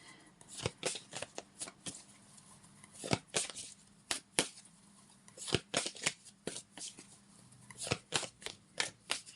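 Tarot cards shuffled by hand in a quiet room, a run of quick, crisp riffling bursts and soft slaps repeating in irregular clusters, close and moderately loud with no talking.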